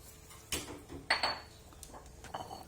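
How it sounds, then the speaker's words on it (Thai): Thai chili paste being pounded in a mortar with a pestle, a few hard knocks and clinks at irregular intervals, fairly close and moderately loud with quiet gaps between strikes. "เดี๋ยวตำน้ำพริกกันก่อนนะครับ"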